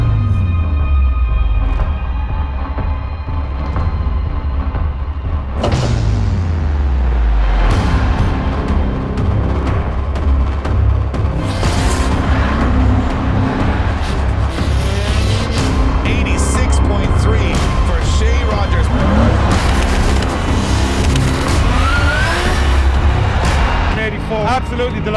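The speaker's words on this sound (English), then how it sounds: "Ryan Caldwell lights up those tyres as he throws it down onto the wall one final time for qualifying" Drift car in qualifying, tyres spinning as it slides along the wall, heard as a loud engine roar with rising revs and screeching, smoky wheelspin, while a commentator talks over it.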